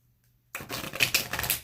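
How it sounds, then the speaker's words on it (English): After a short near-silence, a rapid series of crisp flicking and riffling clicks from tarot cards being shuffled, close and dry, lasting just over a second. "I'm just going to shuffle 3 times"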